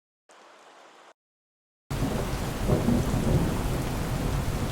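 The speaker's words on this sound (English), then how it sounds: "there's just too much high frequencies in these original rain recordings" Unequalized city rain recording: steady, hissy rain pours loudly after a short faint burst and a pause, bright and full across the top with a deep rumbling underneath.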